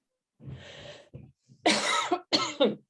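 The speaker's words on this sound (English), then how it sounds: "Apologies, got a bit of a cough there." A person coughs several times in short bursts during an online presentation, with close, harsh coughs and a throat-clearing sound.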